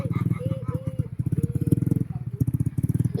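A motorcycle engine putters close by in a fast, steady rhythm of chugging pulses, loud and continuous for the whole stretch.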